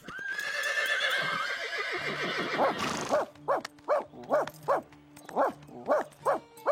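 Horses in a French cartoon whinny loudly, with one long neigh giving way to a steady run of short, rhythmic snorting bursts close by and alone.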